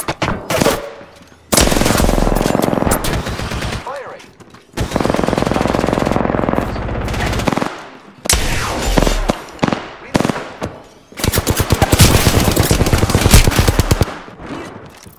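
Loud bursts of automatic gunfire in Apex Legends, sustained volleys broken by short pauses, with sharp individual shots and rattling strings of rounds.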